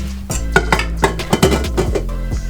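Vegan apple crumble cake batter being mixed in a bowl, a utensil scraping and knocking against the sides in quick irregular strokes, close and fairly loud, with no talk.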